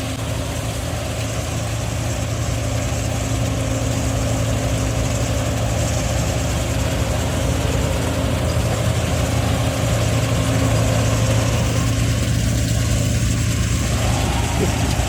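A harvesting machine cuts maize in a large field, its heavy diesel engine droning steadily and loudly throughout with a constant low hum and no break.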